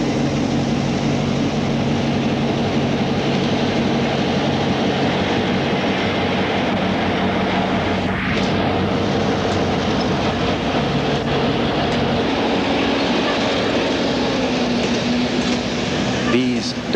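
A Southern Pacific train rumbles steadily along the rails, with continuous broadband noise and a low sustained hum throughout, with a faint brief whine near the end; a voice talks over it.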